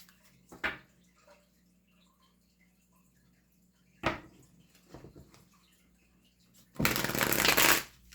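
Tarot cards shuffled by hand in three separate bursts, two short riffles early on, then a longer, louder riffle near the end, with quiet pauses between and no talk.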